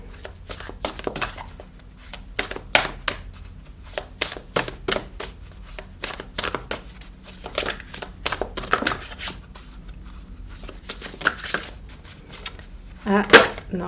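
Oracle cards are shuffled over and over, producing rapid bursts of crisp flicking and slapping, close and fairly loud, with a voice occasionally present between the bursts.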